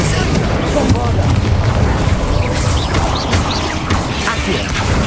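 Repeated booming blasts from the Bombarda spell and other combat magic in the Hogwarts Legacy video game, loud and continuous for several seconds, layered with crashes and a speaking voice.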